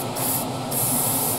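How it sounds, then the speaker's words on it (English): A Revolution airbrush with a 0.5 needle sprays paint, giving a close, steady hiss that surges in two short bursts with a brief lull between them. "just check the paint flow out the airbrush"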